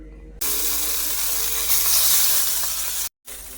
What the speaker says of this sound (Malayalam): ചുവന്ന മീനുണ്ട് മേടിച്ചായിരുന്നു, അത് വറക്കും